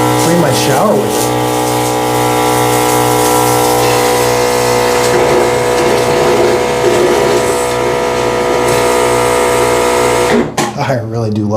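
A Fanttik NB8 cordless electric sprayer pumps while cleaning a walk-in shower, producing a close, continuous motorised hum with faint watery hiss that runs steadily and then stops sharply just before the end.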